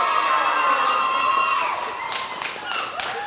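A crowd at a high school swimming meet cheers and shouts, with bright children's voices rising and falling over a steady background roar, close and loud.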